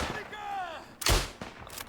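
A voice speaks briefly, then two sharp sniper gunshots ring out in the video game Isonzo, the first loud and booming, the second a little softer.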